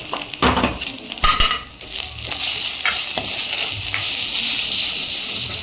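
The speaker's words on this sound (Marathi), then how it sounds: "मस्त सगळं एकजीव होईपर्यंत परतवायचं, ते तेल सुटेपर्यंत सगळे मसाले छान परतून घ्यायचे" Red chilli powder, a little coriander powder and turmeric sizzle steadily in hot oil for a chickpea usal, while a spoon scrapes and stirs against the pan in close, irregular strokes.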